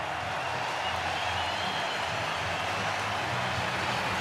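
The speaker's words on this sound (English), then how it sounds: "And the crowd goes crazy." Stadium crowd at a Cubs home game against the Giants roars after an RBI single, a steady, dense wash of cheering and applause that holds level throughout without a break.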